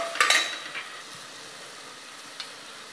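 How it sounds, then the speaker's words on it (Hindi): Chickpea masala for Bihari-style ghughni roasting and being stirred in a pan, with a few sharp scraping stirs near the start over a steady soft sizzle, then a lone clink of the spoon later on. "अब थोड़ा सा इसको भून लेते हैं, थोड़ा सा हल्का सा सोटे हो जाए तब इसमें नमक डाल देंगे।"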